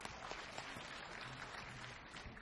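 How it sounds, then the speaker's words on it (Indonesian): Quiet audience applause for a questioner at an Indonesian Buddhist talk, a soft continuous patter of many hands heard at a distance, faint and steady. "Tepuk tangan buat penanya."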